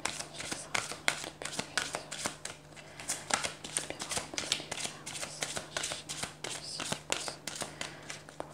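Oracle cards shuffled by hand, close and soft, with dense repeated riffling snaps and slides in a steady rhythm and no clear talking.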